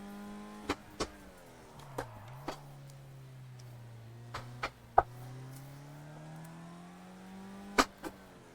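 A race car engine in a sim racing game holds a steady drone that dips briefly and climbs again, broken by sharp clicks of gear shifts, with no talking.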